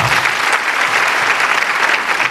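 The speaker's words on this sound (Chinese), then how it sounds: "来，掌声再送给他们两个。" A studio audience at a television talk show breaks into loud, sustained applause, a thick, even roar of clapping filling the whole short stretch with no voices over it.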